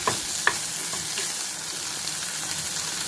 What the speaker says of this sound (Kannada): ಗ್ಯಾಸ್ ಆಫ್ ಮಾಡಾದಮೇಲೆ ಒಣಮೆಣಸಿನ್ಕಾಯಿ ಮತ್ತು ಕರಿಬೇವು ಹಾಕಿದ್ದೀನಿ